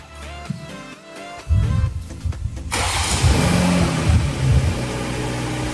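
Toyota GR Supra 2020 with a 3.0-litre engine, heard as a brief quiet stretch before the engine fires and settles into a steady, loud running drone that holds to the end.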